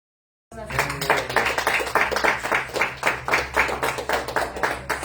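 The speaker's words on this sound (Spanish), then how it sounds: "Den un aplauso." Church congregation applauding during a worship service, steady rhythmic clapping from many hands beginning after a brief silence and continuing evenly to the end, fairly close with a low hum underneath.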